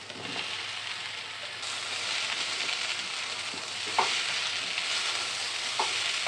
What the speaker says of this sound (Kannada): ಇಲ್ಲಿ ನಾನು 4 ಮೀಡಿಯಮ್ ಸೈಜ್ ಇರೋಂಥ ಆಲೂಗಡ್ಡೆನ ಸ್ವಲ್ಪ ಉಪ್ಪು ಅರಿಶಿಣ ಹಾಕ್ಬಿಟ್ಟು ಚೆನ್ನಾಗಿ ಬೇಯಿಸ್ಕೊಂಡಿದ್ದೀನಿ. ಈಗ ಇದನ್ನು ಹಾಕ್ಕೊಳ್ಳೋಣ.